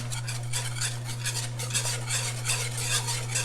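A spoon stirring chunky ricotta into an egg and fettuccine pie mixture in a bowl, rhythmic wet scraping strokes, close and steady with a low background hum.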